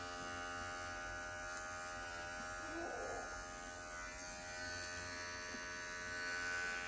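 A Wahl Bravura pet clipper shears angora rabbit wool with a steady, close electric buzz and hum that runs unbroken throughout at an even level.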